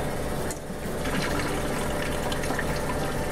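Apple juice pours steadily into a container while apple butter is being canned, giving a continuous close liquid gush and trickle with no talking.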